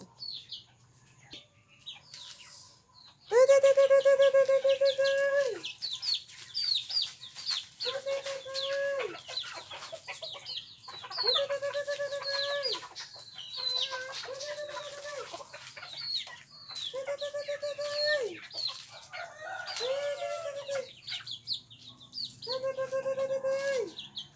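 Chickens cluck softly in the background while a rooster crows again and again, each long, drawn-out call followed by a short pause.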